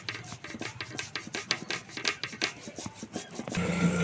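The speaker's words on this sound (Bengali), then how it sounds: "আলুটা গ্রেট করে নিচ্ছি" Potato rubbed against a grater in a home kitchen while making fried potato oil pitha, a steady run of close, rhythmic rasping strokes before a short change in tone at the end.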